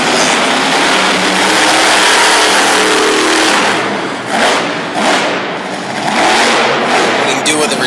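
Chevy monster truck engine roaring loud and steady at a Harrisburg, Pennsylvania monster truck show, swelling through a sky wheelie on the racing lane, with crowd and announcer noise blended into the din.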